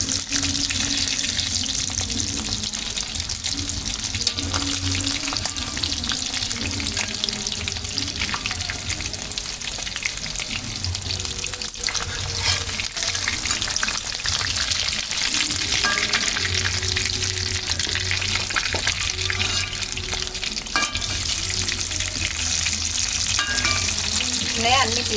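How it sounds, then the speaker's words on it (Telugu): Chicken pieces for chicken mandi biryani fry in a pan with a loud, steady sizzle that runs throughout, broken by repeated scraping and clattering as they are stirred and turned, with no talking. "చూడండి ఇలా తిప్పుకుంటూ బాగా ఫ్రై చేసుకోవాలి."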